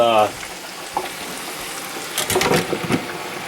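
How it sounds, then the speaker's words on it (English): French fries bubble and crackle in a deep fryer during blanching, a steady close frying hiss with a brief voice at the start and a burst of louder bubbling near the end. "batches of fries that I'm cooking up in the fryer here."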